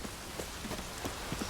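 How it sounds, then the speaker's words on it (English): Steady rain falls in The Witcher 3, a soft, continuous hiss with faint scattered drop ticks and no speech over it. "Needed a spot of rain."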